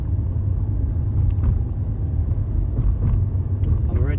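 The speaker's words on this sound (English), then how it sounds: "Off the throttle, signal goes on and braking, slowing the car down, keeping it next to the white line" A car driven with hand controls slows and brakes on a busy road, its steady low engine and road rumble running loud and continuous throughout.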